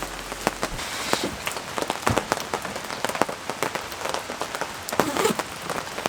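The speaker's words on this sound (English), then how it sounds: "it's not raining too terribly bad. Sounds kind of nice on the awning" Steady rain patters on an awning, with scattered louder drips and taps standing out against a constant wash of drops; no voices. Oregon coast campsite.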